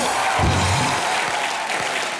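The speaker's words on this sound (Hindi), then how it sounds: "एक बार मिस्टर अभिषेक बच्चन के लिए जोरदार तालियां।" Studio audience applause on a comedy talk show, a dense wash of clapping that holds steady briefly and then begins to fade.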